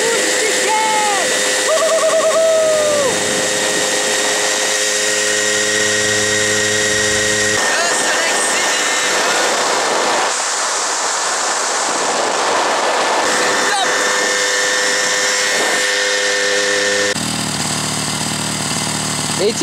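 A restored Solex 6000 moped engine idles steadily, a continuous buzzing drone with harmonic tones that holds a slightly high idle throughout, close and fairly loud.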